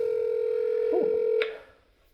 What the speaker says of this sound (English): Let's see if we can get Michael on the phone. I can get a speakerphone here